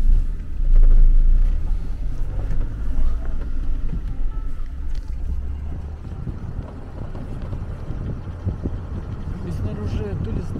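A car pulls away and drives off, its low engine rumble and road noise steady close by, with wind buffeting the microphone and people talking over it.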